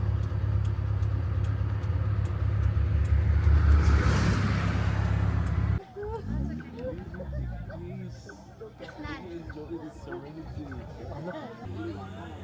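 A Jeep engine rumbles loudly and steadily as it pulls up for a ride in Bali, then cuts off abruptly, leaving a crowd of voices chattering nearby.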